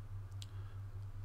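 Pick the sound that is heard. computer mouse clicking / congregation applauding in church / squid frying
computer mouse clicking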